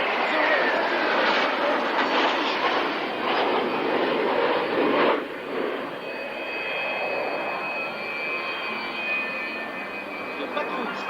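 A jet aircraft flying a solo aerobatic display at the Fairford airshow, a broad steady roar that swells and fades as it passes, with a brief dip midway and a lighter engine rumble trailing on.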